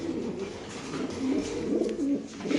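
A Spanish pigeon coos close up in a continuous, low, warbling burble that rises and falls.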